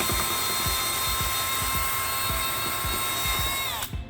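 A drill bores out soft factory aluminum rivet heads on a C8 Stingray Z06 side rocker, a steady high whine with rhythmic low grinding pulses as the bit bites, cutting off abruptly near the end.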